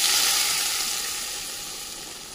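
Hot tempering (baghar) poured into a snake gourd and fish curry, giving a loud, steady steamy sizzle and hiss that fades slowly, with no talk.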